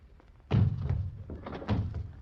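A door in an old film comedy is pushed shut with a solid thunk, then a second, softer knock follows about a second later, close and fairly loud with no talking.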